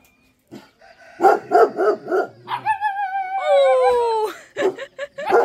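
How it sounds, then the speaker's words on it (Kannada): A Doberman makes a few yelping, whining barks near the start, then a drawn-out howling whine, with people talking over and around it. "ಮತ್ತೆ ಡಾಬರ್ ಮ್ಯಾನ್ ಇದೆ ನೋಡಿ"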